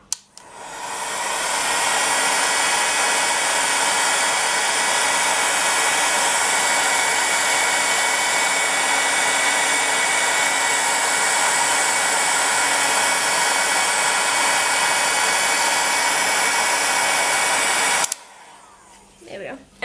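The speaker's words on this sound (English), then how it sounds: "you need to go at those with the heat gun a little bit longer, or a hairdryer" Heat gun or hair dryer blowing on polymer clay to dry alcohol ink, a loud steady whirring blast running nearly twenty seconds before cutting off abruptly.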